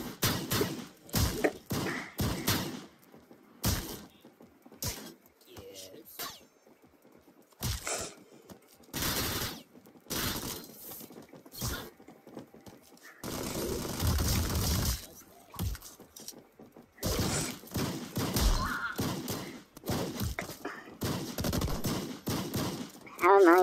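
Gunfire in the Madness Combat video game comes in rapid bursts of loud, sharp shots. The bursts are separated by short quiet gaps, with a longer sustained stretch of fire in the middle and a spoken voice at times.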